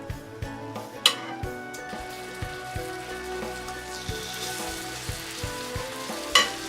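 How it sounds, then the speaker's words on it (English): Chicken pieces browning over high heat in a frying pan with oil and butter, a steady close sizzle with irregular crackles and occasional sharp pops, no talking. "First, brown the chicken in a frying pan over high heat."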